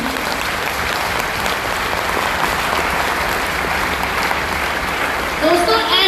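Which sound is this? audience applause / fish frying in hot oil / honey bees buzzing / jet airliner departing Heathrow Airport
audience applause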